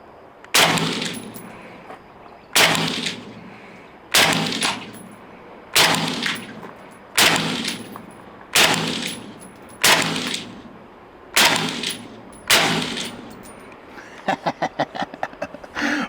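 An FN rifle fires 6.5 Creedmoor rounds in nine loud, sharp shots spaced evenly about a second and a half apart, each ringing briefly, followed by a quick run of rapid metallic clicks.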